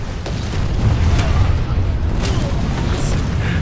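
Explosions and artillery in the online shooter Planetside 2, heavy booming blasts and rumbling bursts in a continuous loud barrage, with a voice talking over the action.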